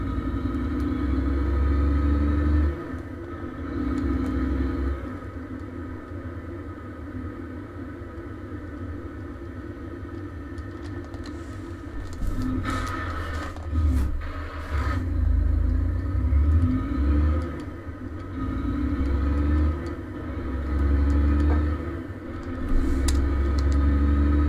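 Simulated truck engines rumble and rev as trucks drive past in a train simulator video game, a continuous low drone that swells and fades with the passing vehicles.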